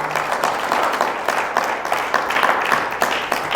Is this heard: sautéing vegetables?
no